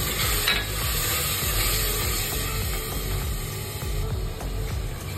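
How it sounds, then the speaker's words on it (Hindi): Masala and tomatoes fry in a pan with a dense, even sizzle close by. Scraping stirs and small clinks run through it, and no one speaks. "अब हम अपने मसाले को अच्छे से कुक कर लेंगे टमाटो के साथ में।"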